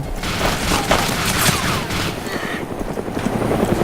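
Helicopter flying low and hovering in DayZ, a military survival game: a loud, continuous rotor roar and chop mixed with bursts of gunfire and booming impacts, dense and close throughout.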